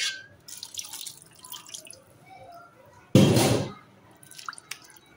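Water poured into a pot of lentil dal made with fish head, a short splashing pour, preceded by faint dripping and kitchen clatter.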